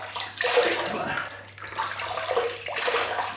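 Tap water splashes as a face is wetted with Welsh water before shaving, a loud, continuous rushing splash with brief dips.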